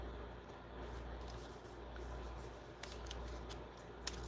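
Scissors cut through paper while a Christmas greeting card is being made, giving faint, quiet snipping and rustling over a steady low hiss, with a couple of small sharp snips near the end.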